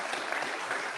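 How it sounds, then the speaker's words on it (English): Audience applause at a panel event for the Theodore Roosevelt Presidential Library, a steady dense wash of clapping filling the whole short moment at moderate loudness. "That was sure to get an applause."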